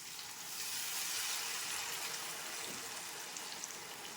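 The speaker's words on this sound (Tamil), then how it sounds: "கரைச்சி வச்சுருக்கிற புளியை ஊற்றிடலாம்" Dissolved tamarind water pours into a brinjal curry as it cooks, giving a soft, steady rush of liquid with a light sizzle. It is faint and continuous, and no one talks over it.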